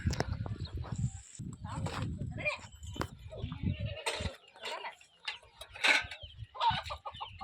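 Chickens cluck and call in short bursts around a farmyard, with a voice talking now and then.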